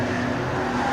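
A BMW production race car at Brands Hatch GP circuit, engine droning loud and steady at full throttle as it passes close, alone with no talk.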